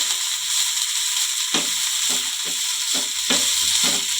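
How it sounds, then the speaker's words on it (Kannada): Coriander leaves fry in hot oil for a chutney, giving a steady close sizzling hiss broken by sharp scraping stir strokes every second or so, with no voices. "ಕೊತ್ತಂಬರಿ ಸೊಪ್ಪು ಚೆನ್ನಾಗಿ ಎಣ್ಣೆಲಿ ಫ್ರೈ ಆಗಬೇಕು"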